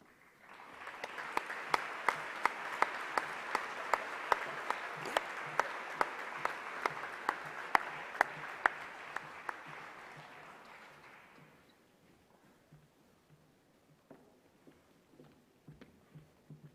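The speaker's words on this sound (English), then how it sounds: "Round of applause, please, for 13G." A school audience applauds class 13G with a sustained burst of many clapping hands and a few sharp louder claps, fading out after about eleven seconds into scattered, sparse claps.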